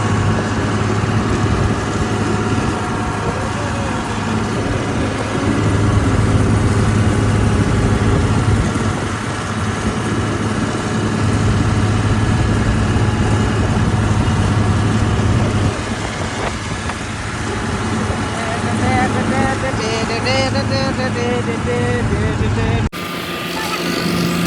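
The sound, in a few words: tractor engine running while driving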